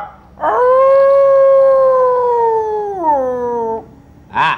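A person's voice imitates a dog, producing one sustained, loud howl-like tone that holds steady, then drops in pitch before breaking off, followed by a short vocal burst.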